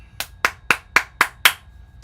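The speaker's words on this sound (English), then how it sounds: "I need a round of applause." Six sharp, evenly spaced hand claps ring out close by in a steady rhythm, each cleanly separated by quiet, with nothing else heard around them.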